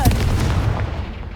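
The Confringo blasting spell in Hogwarts Legacy goes off as a single heavy boom with a sharp attack and a rumbling tail, loud and close.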